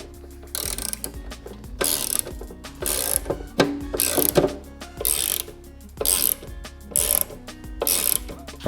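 Ratchet wrench tightening bolts on a blacked-out rear fender support of a motorcycle, a run of rapid clicking bursts repeating at a steady pace with short pauses between strokes, close and fairly loud.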